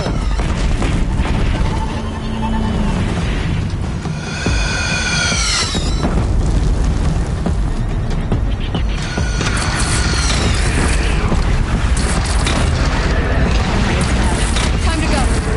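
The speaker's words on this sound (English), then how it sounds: "Take up a cannon on the platform." Heavy cannon fire and chaotic battle noise from the video game Horizon Zero Dawn, with loud booms and metallic machine screeches over a constant din, while characters talk briefly.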